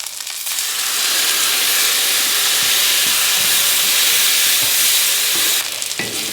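Canned tomato, about 16 ounces, hits a hot pan for a chicken parmesan sauce, setting off a loud, steady hiss and sizzle that runs for several seconds before easing, with faint stirring scrapes underneath.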